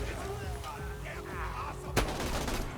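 Gunfire in the video game Borderlands 2 comes as one loud, sharp shot cracking out over a steady bed of game noise and effects, with a voice speaking faintly before it.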